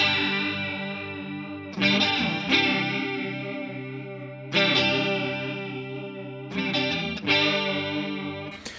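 Electric guitar chords run through a TC Electronic modulation effect pedal while a parameter is swept, giving shimmering chorus-like warble with distortion; several loud strums ring out and decay, played alone with no talking.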